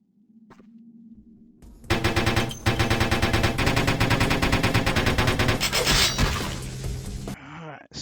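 Sustained rapid gunfire in Vampire: The Masquerade - Bloodlines, a loud continuous burst of shots lasting about five seconds after a quieter lead-in, ending with a few clattering sounds.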